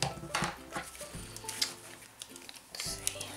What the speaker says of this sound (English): Scrape out the rest of this, and then I'm going to go ahead and put the rest of those little colors on top of there.